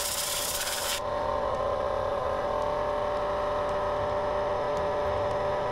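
A hardwood mallet spins on a lathe while 600-grit abrasive rubs against it, giving a steady, even whirring hiss. A brief louder burst of friction noise comes at the start, then a constant drone continues alone.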